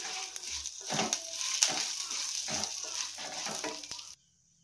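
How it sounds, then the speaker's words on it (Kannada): Curry leaves, a piece of tamarind and coconut fry in hot oil in a steady, close sizzle with stirring and scraping, stopping abruptly near the end. "ನಾನಿಲ್ಲಿ ಎಲ್ಲವನ್ನು ಆಯಿಲಲ್ಲಿ ಫ್ರೈ ಮಾಡ್ಕೊಂಡಿದ್ದೀನಿ"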